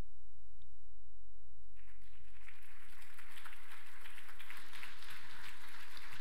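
A crowd applauding at the International Drag Racing Hall of Fame induction ceremony, a dense patter of clapping that starts after a brief quiet moment and carries on steadily through the room.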